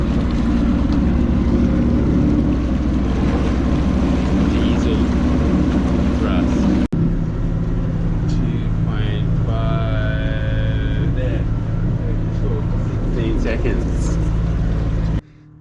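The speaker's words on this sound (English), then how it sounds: "First, let's test the 30 horsepower diesel." Boat driven by a 30 horsepower diesel engine during an acceleration test, a loud steady close engine drone with wind and water noise throughout, a brief break midway, and a voice talking over parts of it.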